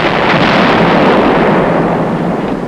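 Artillery guns of the 83rd Infantry Division fire on the St. Malo citadel, heard as a loud, sustained booming roar that fills the whole stretch without pause or voices.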